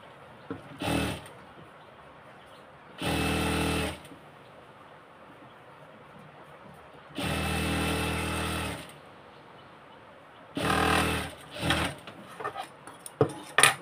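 A sewing machine stitches a salwar seam in four separate bursts, each one to three seconds long, running fast and close with quiet handling between the runs.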